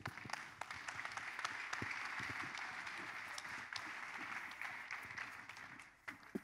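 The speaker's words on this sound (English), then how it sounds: "Applaudissons pour le Seigneur." A church congregation applauds during a testimony service, steady, fairly close clapping with individual sharp claps that carries on without a break for about six seconds.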